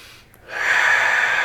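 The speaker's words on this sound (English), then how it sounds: "breathing in." A single deep breath drawn in close to the listener, starting after a brief quiet moment and holding as a steady airy rush for about a second.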